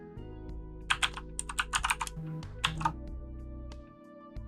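Keystrokes on a computer keyboard while entering a localhost address, a quick burst of close, crisp clicks in two short runs over a low steady hum.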